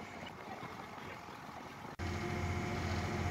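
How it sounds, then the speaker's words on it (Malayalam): A ferry boat crossing between Azhikkal and Mattool passes with a steady engine drone, which jumps to a louder, heavier rumble partway through. "ഓപ്പോസിറ്റ് ഒരു ബോട്ട് കൂടെ പോകുന്നു"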